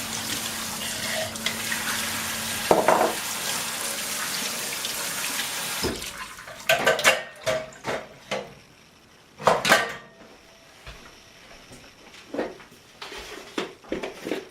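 Soaking liquid pours and splashes out of a jar of seeds into a sink, a steady running stream that breaks into a few short bursts of sloshing and dripping, close and moderately loud with no talk.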